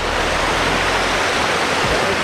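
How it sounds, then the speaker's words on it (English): Chickasaw Falls, a waterfall in Oklahoma's Chickasaw National Recreation Area, roars as a steady, loud broadband rush of falling water that fills the whole moment without a break. "And the Chickasaw Falls up there."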